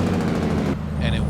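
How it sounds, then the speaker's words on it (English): Freightliner Coronado truck in American Truck Simulator with a Jake brake, a loud rough rapid engine-braking rattle close by that cuts off abruptly, followed by a quieter engine drone, with someone talking over it. "at least it's got a loud Jake brake"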